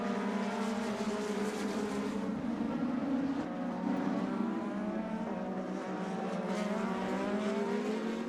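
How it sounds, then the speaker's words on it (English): IndyCar race cars at the Grand Prix of Portland, including a Hitachi Chevrolet, produce a continuous high-revving engine roar with shifting pitch as they pass, loud and sustained, with no talk. "Championship leader Newgarden on screen in the Hitachi Chevrolet"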